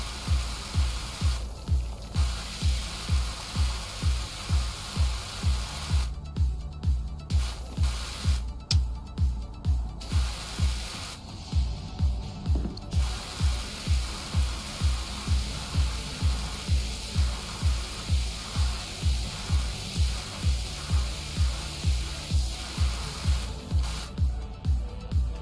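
Steady hiss of a pressure washer spraying in the video game Powerwash Simulator, a continuous broadband jet with a rhythmic pulsing undertone, briefly cutting out several times before resuming, with no talk over it.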